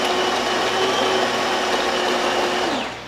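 A DeLonghi Gran Dama espresso machine brews a short coffee with a steady, loud pump hum and hiss that continues without a break and fades at the end.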